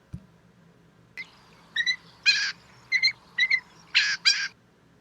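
A great grey shrike calls in a winter field, giving a series of harsh, scratchy bursts in uneven clusters, fairly close and clear over a quiet background with no talking.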